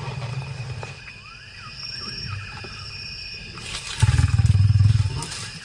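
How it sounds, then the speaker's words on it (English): Wild lion at night in the African bush, low rumbling growls followed by a loud, deep pulsing roar close by, over a background of chirping crickets and insects. "those growls and roars just rattle through your body"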